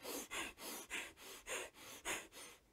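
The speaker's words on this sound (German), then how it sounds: "heißt das, so man atmet sehr schnell" Rapid, forceful fire-breath breathing exercise: eight sharp, rhythmic breaths in quick succession at about three per second, close and fairly quiet, with no talking.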